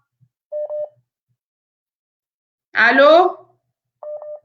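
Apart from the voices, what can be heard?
phone line beeps as the live call drops from network problem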